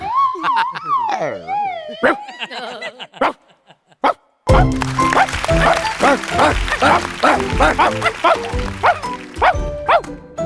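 A voice imitates a dog, barking and yelping in quick rhythmic bursts, loud and close, after some exaggerated vocal wails at the start.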